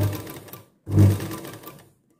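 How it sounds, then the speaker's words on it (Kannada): A sewing machine stitches around a blouse neckline in two short runs, each a close, loud motor whir under half a second to a second long, separated by a brief silence. "ಇದೇ ರೀತಿ ಪೂರ್ತಿ ಕೊರಳನ್ನು ಹೊಲ್ಕೊಳ್ಳಿ"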